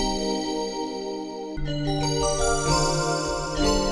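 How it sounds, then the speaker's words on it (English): A bright, high-pitched synthesized bell tone from a "Bottle Bell" preset rings out, then shifts to a new sustained bell-like chord with shimmering overtones, no voices. "I already found this nice bell sounder here."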